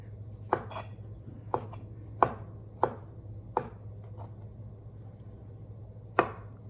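A knife chops bopis ingredients into small pieces on a board, giving six separate, sharp, close thuds spaced about a second apart over a steady low hum, with no talking.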